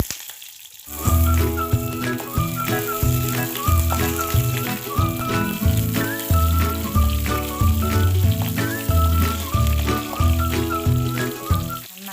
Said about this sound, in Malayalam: കടുക് പൊട്ടി വരുന്നുണ്ട്. അതിലേക്ക് ആദ്യം നമുക്ക് അരിഞ്ഞു വെച്ച് പച്ചമുളക് ഇട്ട് കൊടുക്കാം.